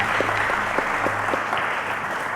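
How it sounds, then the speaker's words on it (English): A game-show studio audience, on the Cowbellpedia quiz show, gives a sustained round of applause: dense, even clapping that stays loud throughout with no talk. "let's give Glory Okoli a round of applause"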